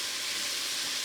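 Diced smoked sausage dropped into a hot pan for Cajun-style black-eyed peas, giving a steady, even hiss of sizzling with no break and no voices.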